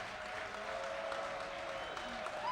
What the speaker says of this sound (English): a standing ovation for Snipe and PanBan